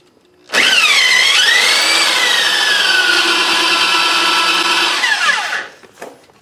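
A power drill spins inside a hole while brakes are being fitted to a Model T go-kart: one loud, steady whine of about five seconds that dips in pitch as it starts, holds level, then winds down and stops.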